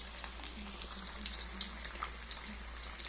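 Yisok fish frying in a pan of hot oil, a steady close hiss and crackle with scattered pops throughout, no voices.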